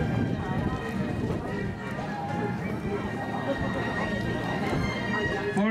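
Hooves drum rapidly on the ground as several horses gallop past at a ranch rodeo, with an occasional whinny over a busy background of crowd and talk.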